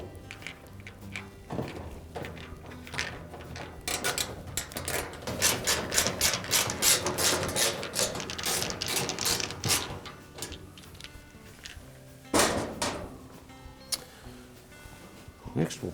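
Screws being installed on a Maytag dryer, a series of close metallic clicks, ratcheting taps and clunks in uneven bursts, with a sharper knock near the end.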